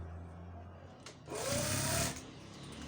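A sewing machine stitching a child's shalwar runs in one short burst of about a second, with a rising motor whir and rapid needle clatter close by, preceded by a faint click and quiet handling.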